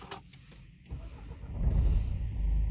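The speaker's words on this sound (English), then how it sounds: "and the car comes to life." A Nissan Kicks with a smart key system is started with the push button, a brief whir and click followed by the engine catching and settling into a low, steady idle heard up close from the cabin.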